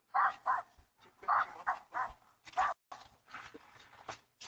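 A puppy left outside barks in a string of sharp, close yaps, caught on a Ring doorbell camera. The barks come in uneven bursts with short gaps between them.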